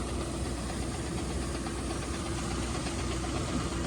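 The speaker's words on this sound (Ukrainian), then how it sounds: "Дана сушарочка працює коректно." A grain dryer runs with a constant, fairly loud mechanical hum and rumble, unchanging from start to end with no speech.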